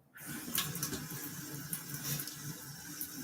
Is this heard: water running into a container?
yes